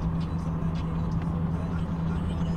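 Mud terrain tires on a truck hum steadily against the road, a continuous low drone with a constant tonal whine running under the cabin rumble for the whole stretch.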